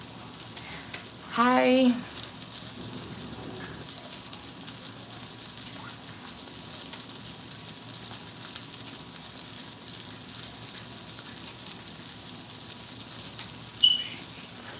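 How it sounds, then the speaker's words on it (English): Sausage frying in a pan for sausage and grits gives a steady, faint sizzle throughout, with a brief greeting spoken near the start and a small clatter toward the end. "I'm trying to get the sausage crispy"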